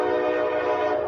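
A BNSF freight train heard through a cheap home security camera, its horn sounding as a steady, loud, harmonic blare that holds through the whole moment, alone without talk.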